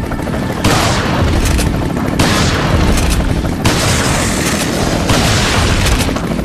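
Shotgun blasts and heavy gunfire ring out in the video game Resident Evil 4, forming a dense, loud barrage of booms with a few brief gaps.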